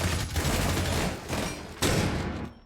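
A rapid burst of close, loud gunfire in a Rainbow Six match, sustained rattling shots with a brief dip before a final sharp volley.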